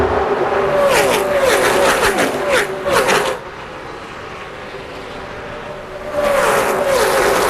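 NASCAR Busch Series race cars at the 2004 Winn-Dixie 250 roar past on track, with loud engine drones rising and fading as cars pass, a brief quieter lull, then another car surging by.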